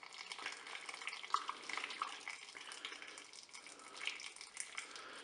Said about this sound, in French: je vais remplir eh bien, ma cuve avec l'eau bouillante